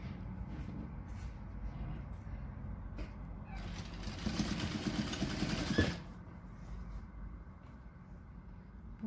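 A sewing machine runs in one short, steady burst while stitching a folded edge of a patchwork bag, close by amid quiet handling sounds, with no talk over it.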